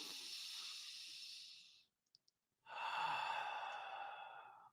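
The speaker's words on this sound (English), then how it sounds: "Take a deep breath with me." A slow, deep breath: a long, soft airy inhale, a brief pause with faint mouth clicks, then an equally long hissing exhale, close and quiet with no talk.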